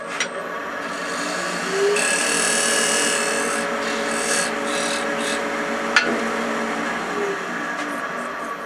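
A wood lathe spins while a small 8mm carbide woodturning tool cuts a chamfer, giving a continuous scraping, rasping hum. It holds steady throughout, with one brief knock near the end.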